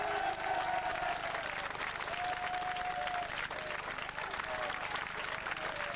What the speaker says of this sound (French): on t'applaudit encore très très fort